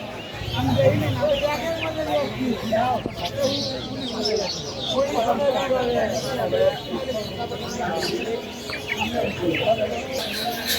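Silkie chickens cluck and call at the Mirpur-1 bird market in Dhaka, with people talking over them throughout.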